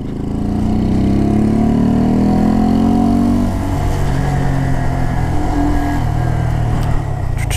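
A motorcycle engine runs steadily while riding on a road in Ohio, a loud continuous drone that lifts as it accelerates, then settles into a rougher, lower running note.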